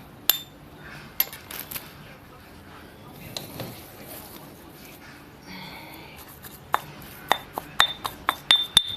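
A pestle pounds Thai shrimp paste (kapi) in a mortar for a southern pork-rib curry, giving sharp, clinking knocks that come sparsely at first and then in a quicker, denser cluster near the end.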